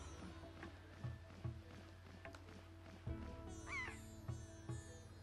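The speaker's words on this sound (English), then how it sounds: "I'm gonna take a picture of the seagulls too." Seagulls calling in The Legend of Zelda: The Wind Waker, with several short, sharp squawking cries spread over the clip against quiet game background sound.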